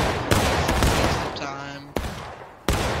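Rifle volleys from War of Rights, the American Civil War game: a few loud, sharp musket cracks fired singly and close by, with a shouted command carrying between them.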